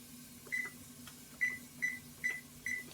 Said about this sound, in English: I just use my handy dandy stove timer for that.